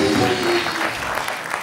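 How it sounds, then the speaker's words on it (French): A TV studio audience applauds singer Carla Bruni with brief, loud, dense clapping that fades slightly toward the end. "Applaudissements pour Carla, c'est normal."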